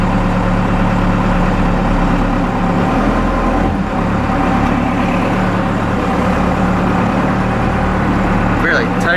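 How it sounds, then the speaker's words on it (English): A 4BT Cummins diesel engine fitted with a 3200 RPM governor spring runs loud and close, a steady low rumble with only slight throttle changes throughout. "Let's see how sensitive this throttle is."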